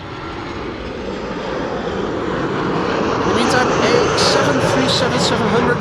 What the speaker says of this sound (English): While we're filming Saudia Dreamliner to runway 36 right, 5 hours and 44 minutes on the way, flight 215.